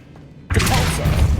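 Revelio spell cast in Hogwarts Legacy: after half a second of near quiet, a sudden loud, broad magical burst swells and holds as a dense, shimmering wash to the end.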